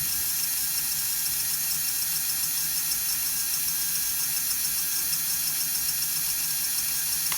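A WPL 1/12-scale RC car's electric motor held at full throttle, a steady high-pitched whine with buzzing mechanical gear chatter, continuous and close, with no speech.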